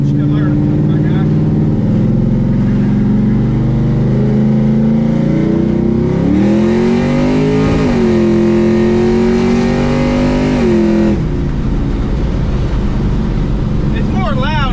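A rowdy, loud car engine revs up and pulls through the gears, rising in pitch as it accelerates and then dropping back, a steady close drone with talk over it.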